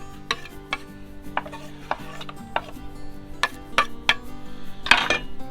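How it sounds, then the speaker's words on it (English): Chopped jalapeños scraped off a board into a bowl of corn for a smoked cream corn side dish, then mixed: scattered close taps and scrapes over a low steady hum, with no speech. "Then we're just going to scrape them in, mix them in here with your corn."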